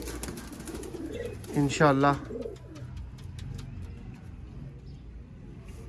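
Breeder pigeons of the Sialkoti breed coo briefly in the middle of a man's speech, over a steady background hum.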